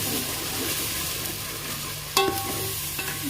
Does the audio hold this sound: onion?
yes